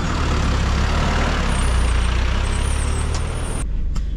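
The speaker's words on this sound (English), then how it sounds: "Nice truck." A truck engine rumbles loudly nearby as the vehicle pulls away, with a steady low drone and a brief hiss near the end before it cuts off.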